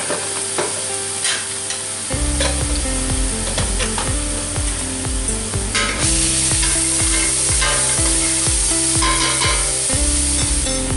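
Two whole onions fry in a pan, a loud continuous sizzle overlaid by repeated clunking stirs and scrapes, with steady low mechanical hum and no talking.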